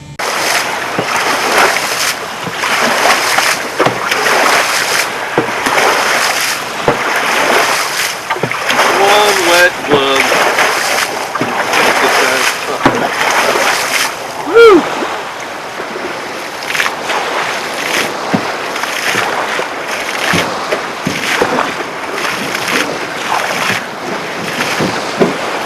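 A small boat crossing the Columbia River churns through water, with rhythmic splashes and sloshing close by and a constant rush of wind and waves. Voices are faintly present underneath.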